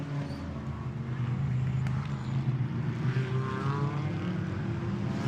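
GT4 race cars, an Audi and a Mercedes among them, accelerate hard out of a corner at the Misano circuit, making a steady, loud engine drone that carries through the whole stretch without talk.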